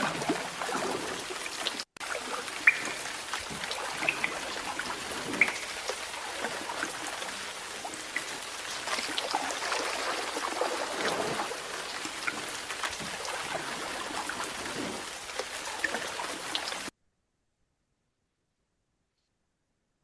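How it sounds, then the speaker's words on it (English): Rain falls into puddles in a close ASMR-style recording, a steady dense patter and splash with no voices, ending abruptly in silence. "Next is rain puddles."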